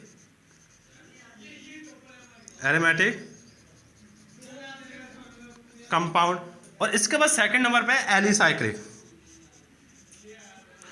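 Chalk or marker taps and scratches on a board during a Class 12 chemistry lecture on classifying organic compounds, faint and intermittent beneath a teacher's continuous speech.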